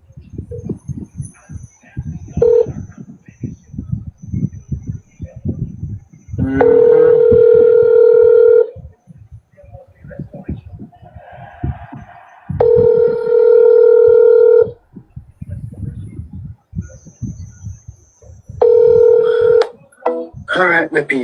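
Telephone dial tone and dialing tones on an open phone line during a live call-in show: three long, loud, steady tone bursts separated by quieter stretches of clicks and background noise.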